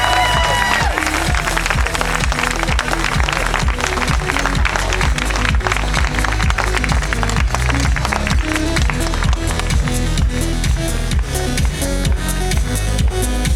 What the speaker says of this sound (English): So please, one more round of applause for Team BMC.